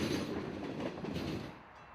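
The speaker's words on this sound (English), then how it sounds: "the southbound juice train is a nice catch" A southbound freight train carrying juice rumbles past on the Wildwood Subdivision near Baldwin, Florida, with steady rolling wheel noise and faint clatter, fading slightly toward the end.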